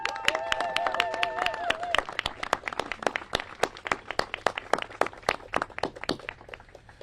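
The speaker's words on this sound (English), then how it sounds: "We elected officials want to give all of you a round of applause." Applause for organizers from the audience at a political rally on climate action: sparse, moderately distant claps, then scattered individual claps, with a brief voice-like tone early on.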